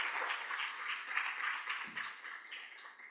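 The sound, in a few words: audience applause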